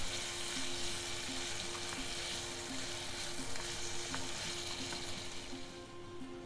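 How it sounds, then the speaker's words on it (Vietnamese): Bacon frying in oil in a pan, a steady dense sizzle and crackle with small pops throughout, close and loud, easing slightly at the end. "các bạn chuẩn bị một cái chảo và rồi chúng ta sẽ đi chiên thịt bacon"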